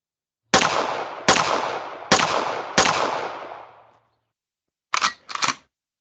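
Four sharp gun-reload effects from a Unity first-person shooter game ring out in an even rhythm, each decaying briefly, followed by two quick clicks a moment later, with no one talking.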